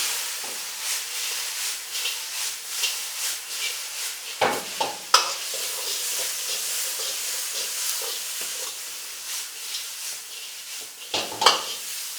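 Fried potatoes for chili potato are tossed in a hot wok with black pepper, giving a steady close sizzle broken by scraping stirs and a few sharp metallic clanks of the utensil against the pan.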